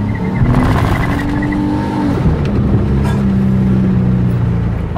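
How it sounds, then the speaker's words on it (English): A car held on the brakes while its engine revs hard for a burnout on a freshly oiled road, a loud, steady roar with rising and falling engine pitch and tire noise throughout. "That was a pretty fast burnout, so wasn't it?"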